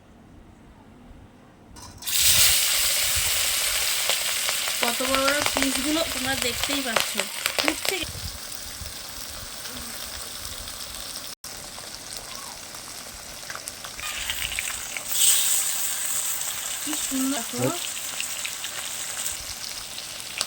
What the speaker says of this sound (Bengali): আজকে সর্ষের তেল দিয়ে করবো মাছগুলো ছেড়ে দেবো এখন